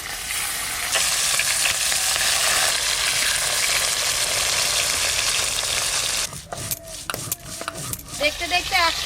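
Small Japanese puti fish sizzle loudly in mustard oil in a wok, a dense steady crackle that runs for about six seconds, then cuts off into scattered clinks and faint stirring noises.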